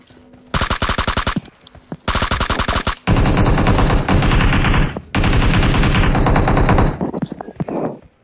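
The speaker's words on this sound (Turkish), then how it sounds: "Aa bak, uzaktan sıkıyorlar." Automatic gunfire in a video game with a BRDM-2 armoured car, coming in three long, loud, rapid bursts with short gaps between them, then a few fainter scattered shots.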